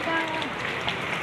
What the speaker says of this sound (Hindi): बारिश अच्छी हो रही है अभी तक तो